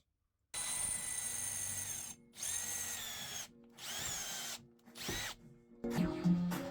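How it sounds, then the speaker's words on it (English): A power drill whirs in several separate bursts, enlarging holes for screws, revving up and winding down between short pauses, close by and fairly loud. "I just need to drill those holes a little bit bigger so I can install the screws"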